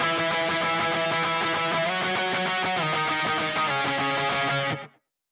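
An octave electric guitar part from a pop punk mix plays a run of bright, distorted, sustained notes that move between pitches, then cuts off sharply near the end with no voice over it.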